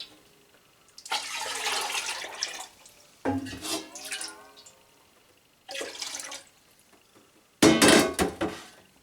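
Homemade kefir whey poured back into a container in several separate splashing bursts, with clinking and trickling between pours and no talking.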